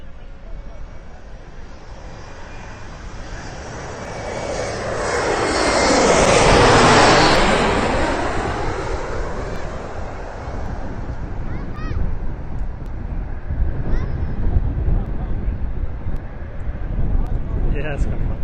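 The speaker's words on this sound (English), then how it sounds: "You're going to hear some amazing jet wash." A jet airliner passes at Reagan National Airport. Its roar swells to a loud peak and fades, then turbulent, rumbling jet wash follows. Steady wind buffeting on the microphone runs throughout.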